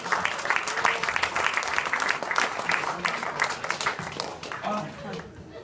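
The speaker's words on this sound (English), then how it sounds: "Ladies and gentlemen, a huge round of applause." A comedy show audience bursts into applause, a dense stretch of clapping mixed with voices and laughter that fades toward the end.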